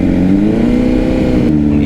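A Honda CBR600RR sport motorcycle revs loudly and close by, its engine note climbing and holding in a strong buzzing drone for under two seconds before a sudden drop at the end.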